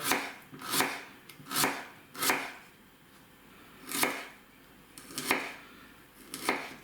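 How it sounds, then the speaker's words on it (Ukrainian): A knife slices an onion into thin half-rings on a cutting board in a handful of separate strokes, crisp and close, with quiet pauses between cuts. "Нарізаю її півкільцями. Тоненько."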